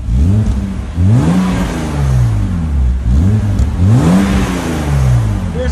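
A stock 1995 BMW M3 with a 3.0-litre inline-six and an Autowerke active rear muffler revs loudly in two sharp bursts, each rising then falling back to a steady idle, heard close and alone.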